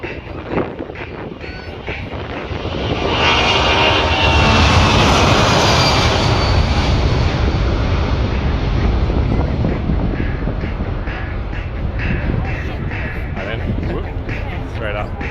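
A C-17 military transport aircraft takes off at the Avalon International Airshow in 2019, its jet engines swelling into a loud, broad roar that builds over the first few seconds and then holds steady, with a commentator talking over it.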